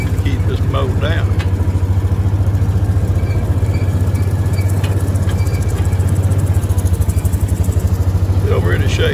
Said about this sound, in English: Come down my riding mower now, and I'll try to come once a week to keep this mowed down.